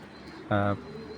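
A single short, loud coo from an imported racing pigeon born in 2015, rising sharply out of a low background murmur and ending abruptly.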